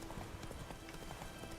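Roach, a horse in the video game Witcher 3, moves with quick, faint clip-clopping hoofbeats in a steady rhythm over a brief, low-level stretch.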